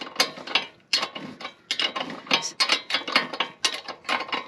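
Ratchet tightening a bolt on a front camber kit on a Honda Civic with a G23 VTEC swap, with steady close clicking strokes repeating in a regular rhythm, loud and alone.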